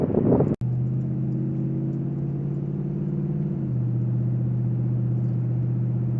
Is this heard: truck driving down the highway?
yes